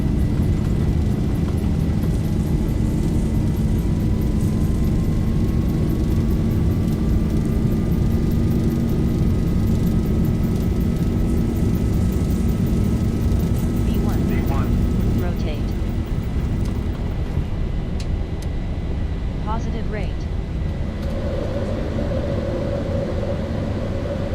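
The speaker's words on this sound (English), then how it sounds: "Takeoff thrust set." Airliner engines spooling to takeoff thrust in the Zibo Mod 737 flight simulator, a loud, steady roar with a rising whine, while cockpit voices and callouts come through over the engine noise.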